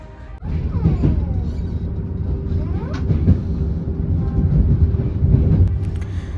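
A train riding through Romania, heard from inside as a continuous low rumble with rattling and a few rising metallic squeals from the wheels and track, steady and fairly loud throughout.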